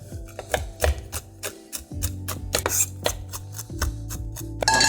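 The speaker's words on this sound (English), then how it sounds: "I'm gonna start chopping some pistachios while I wait for my pan" A knife taps rapidly on a cutting board chopping toasted pistachios, a quick irregular series of light chops, close up over a low background hum and music.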